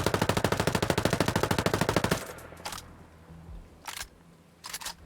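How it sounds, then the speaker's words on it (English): A submachine gun in Ghost Recon Breakpoint empties a full magazine in one rapid, loud, evenly spaced burst lasting about two seconds, then stops, leaving a few soft clicks and faint rattles. "And then let's do a full mag, actually, with this."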